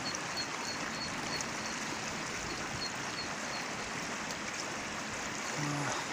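The Tama River flows steadily at dusk in its middle reaches, a continuous broad even wash of rushing water with no voices.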